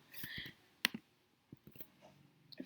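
Typing on a computer keyboard during a JavaScript coding session gives sparse, quiet clicks in small irregular bursts separated by near silence.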